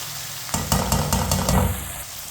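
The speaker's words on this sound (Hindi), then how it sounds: "चिकन को मैंने फ्राई कर लिया 4 मिनट के लिए" Chicken fries in a pan for a chicken karela dish with a soft, steady sizzle, broken by a few sharp clatters of stirring, close and moderately loud with no talking.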